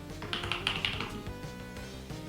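Steady clicking keystrokes on a computer keyboard while code is typed, a dense run of taps that thins out slightly toward the end, close and fairly loud.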